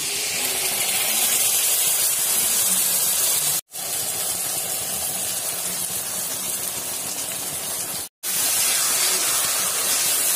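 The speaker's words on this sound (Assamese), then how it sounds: "এতিয়া মই ইয়াতে আপোনাৰ মছলাখিনি ঢালি দিম" Spice paste hits hot oil in a pan with half-fried jackfruit seeds and sizzles in a loud, steady, close hiss that continues for ten seconds, broken by two very brief silent gaps.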